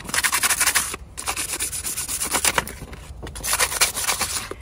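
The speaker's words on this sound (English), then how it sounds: "I'm just gonna kind of get all this dirt off." Dirt being rubbed and scrubbed off the frame of a trailer ahead of fitting an electric jack: close, rapid back-and-forth scraping strokes in quick bursts, with a couple of brief pauses.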